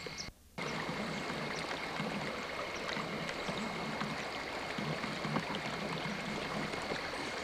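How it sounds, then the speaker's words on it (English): Running water flows steadily through a shallow stream, a continuous close rushing and trickling wash that holds even throughout with no talking. "Earlier today, water flowing through here was probably 14 to 15 inches deep."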